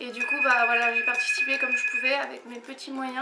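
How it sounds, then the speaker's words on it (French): A telephone rings with a steady electronic tone running under continuous French speech, the ring holding for about two seconds before cutting off. "Ah ça c'est le téléphone."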